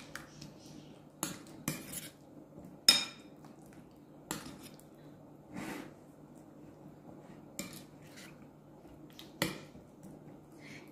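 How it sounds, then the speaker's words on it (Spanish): Cucumber and yogurt salad stirred with a spoon in a bowl, giving scattered sharp clinks and scrapes at irregular intervals over quiet room tone, with no talking. "Vamos a mezclar con la cuchara."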